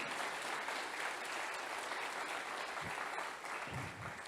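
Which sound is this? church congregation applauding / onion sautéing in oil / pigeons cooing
church congregation applauding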